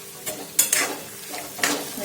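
Onions and green chillies frying in a pan give a continuous sizzle, broken by several scraping stirs and light clinks of a spoon against the pan, close and fairly soft.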